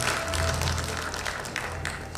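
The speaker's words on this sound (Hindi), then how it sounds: "जोरदार तालियां एक बार फिर" Applause from an awards-ceremony crowd at the Dada Saheb Phalke Academy Awards, a steady wash of many hands clapping at moderate distance with a low hum beneath, continuing evenly for a couple of seconds.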